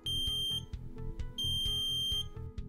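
A PendoTECH PressureMAT pressure monitor sounds its high pressure alarm, a loud electronic beeping tone that repeats in rapid pulses with a steady rhythm, alone without talk.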